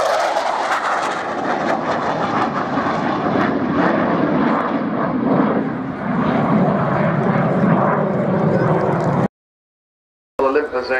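Roaring jet aircraft with Olympus engines passing at the Yeovilton air show, a loud sustained thunder that swells and fades before a sudden cut, then resumes briefly.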